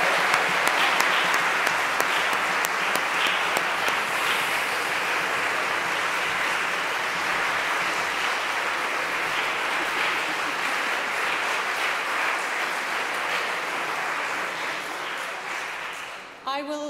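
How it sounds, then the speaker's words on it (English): Sustained audience applause after singing at a Handel aria competition, a full, even roar of clapping from a large crowd lasting well over fifteen seconds before cutting off abruptly. "Can we have another round of applause for that phenomenal singing?"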